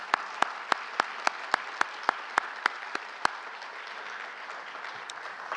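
Graduation audience at the 2018 Nashua Adult & Community School ceremony clapping: a dozen sharp, evenly spaced claps ring out at moderate distance, then fade into a quiet room with faint scattered sounds.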